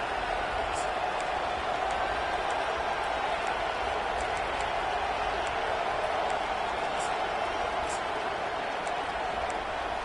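A football stadium crowd roars during a Michigan vs Wisconsin game, a loud, unbroken wall of distant massed voices that fills the whole stretch, with a broadcast voice faintly mixed in.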